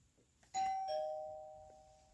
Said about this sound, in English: Press test to see if your doorbell will chime.